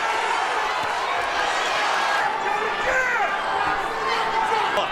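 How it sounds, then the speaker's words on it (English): A boxing arena crowd roars steadily at a professional bout, a dense sustained wash of cheering and shouting at a fairly loud level. "The crowd is back into it."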